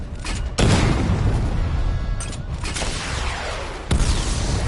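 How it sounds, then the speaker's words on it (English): Missile barrage explosions in a PS4 video game: heavy booming blasts burst in at intervals, each followed by a rumbling, crackling decay, loud and close. "Missile barrage level 1 ready."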